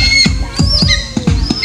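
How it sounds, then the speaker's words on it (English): A white-crested sea eagle, a bird of prey at a large zoo in the Philippines, gives a series of harsh, loud squawking calls in a steady rhythm, close by. "It's one of the birds of prey."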